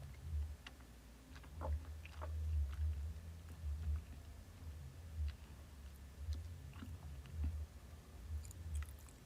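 Close, soft chewing of food with wet, crunchy bites in an irregular rhythm, quiet and without talk.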